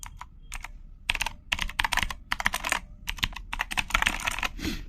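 Clicky blue switches on a Red Dragon Kumara K552 mechanical RGB gaming keyboard with a metal plate, typed in quick bursts of sharp, close clacks with brief pauses between flurries, no voices.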